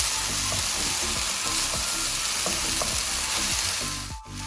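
Chicken fried rice with soy sauce sizzles loudly in a pan while spatulas scrape and toss it in a steady rhythm, the hiss dipping briefly just before the end.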